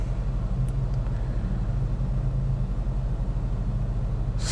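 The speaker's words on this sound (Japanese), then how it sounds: "すごい地響きのような音がすると" Abarth F595C 2nd Edition convertible cruising on a highway, heard from inside the cabin as a steady, loud low-frequency rumble and road drone that holds constant throughout, with no talk.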